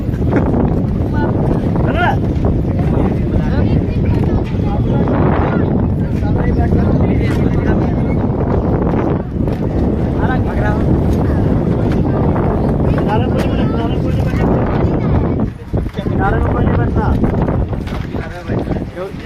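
Strong wind buffets the microphone during a crowded boat ride on the Ganges, a steady rushing roar over the water, with voices talking underneath throughout.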